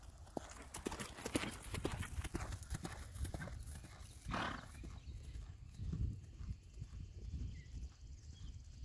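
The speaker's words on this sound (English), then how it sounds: "Extended lope, please." Horse hooves pound steadily at an extended lope in an arena, a continuous rhythmic clip-clop heard at moderate distance with no talk.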